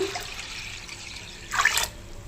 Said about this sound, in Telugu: నీళ్ళు వేస్తున్నాను